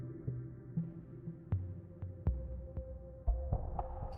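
A slow, deep heartbeat thumps at a steady pace beneath a low sustained hum, with sharper soft thuds landing every second or so, no voices present.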